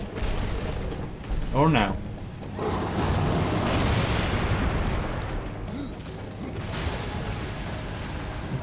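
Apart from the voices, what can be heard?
bomb exploding in the video game Darksiders 2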